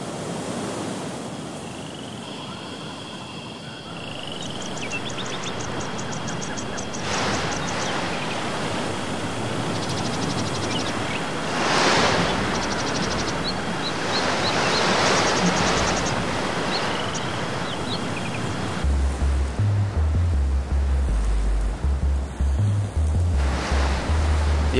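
Ocean waves and surf on a windy coast, a continuous broad roar with repeated swelling breakers, plus low wind rumble buffeting the microphone in the last few seconds.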